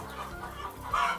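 Chickens on a poultry farm housed in cages of around 120 birds, clucking in short, close bursts, with one sharper, louder call near the end of the brief stretch.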